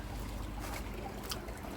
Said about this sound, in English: the air is still bubbling a good one